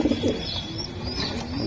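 Racing pigeons coo at close range in a soft, low burbling run at the start, with quieter coos and murmurs continuing beneath a steady background hum.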